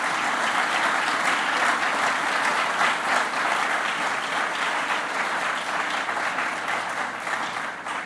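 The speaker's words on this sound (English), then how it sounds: "give him a round of applause" An audience claps for civil rights Freedom Rider Claude Reese at a New Orleans mayoral address on removing Confederate statues, sustained, thick applause that stays loud and even from start to finish.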